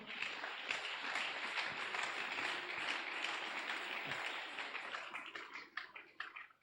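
A church congregation at a Sunday service applauding together, a dense wash of clapping from many hands that holds steady, then thins into scattered claps as it fades, heard at a moderate distance with no talk over it.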